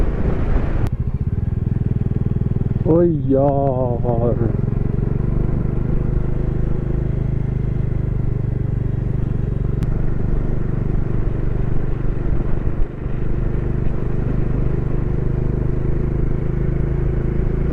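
A motorcycle cruises at a steady speed on a mountain road near Kargil, its engine droning loud and continuous throughout, with a brief spoken exclamation early on.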